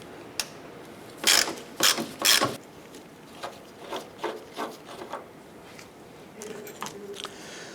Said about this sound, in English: Going to use our T45 Torx bit and remove